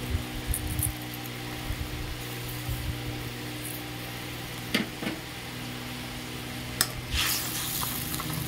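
Spice masala with chilli powder, coriander powder and a little sugar is sautéed in a pan for patol sundari, with soft frying and stirring scrapes, a few sharper utensil clicks and a steady low hum underneath.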